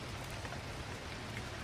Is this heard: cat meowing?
no